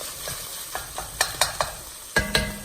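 Ground ribeye frying with onions and butter in a hot pan gives a constant sizzle under a few sharp, close scrapes and taps of a spatula stirring the meat.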